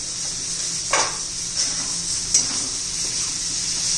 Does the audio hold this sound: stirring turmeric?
yes